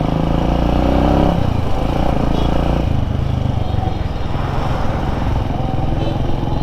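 A Suzuki XL motorbike engine drones loud and close as it rides through congested road traffic beside construction work, a steady rumble with some clatter from a loose chain sprocket.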